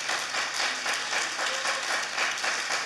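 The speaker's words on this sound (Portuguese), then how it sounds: "Você pode aplaudir o Senhor?" Church congregation applauding during a Sunday communion service, a dense, continuous wash of many hands clapping at once, moderately loud and steady for the whole stretch, with no voice over it.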